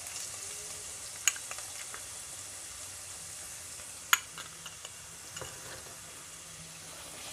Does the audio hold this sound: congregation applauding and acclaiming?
no